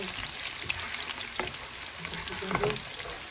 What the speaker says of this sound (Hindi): देखिए हमारा तड़का जो है ये भुन रहा है अभी